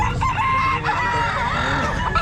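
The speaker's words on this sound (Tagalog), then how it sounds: "Ayun manok o." A rooster crows loudly and close by at a Philippine pet market. Other fowl cluck around it, and market hubbub fills the background.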